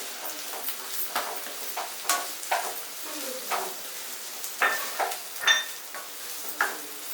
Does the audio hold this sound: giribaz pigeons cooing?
no